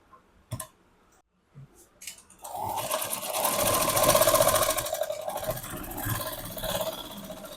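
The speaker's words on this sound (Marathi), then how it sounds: "आणि इथून आपल्याला इथून 1/2 इंचाची शिलाई मारायची." A sewing machine stitching a half-inch seam on a princess-cut blouse, opening with a few isolated clicks and ticks, then settling into a steady, rapid mechanical whir of stitching close by.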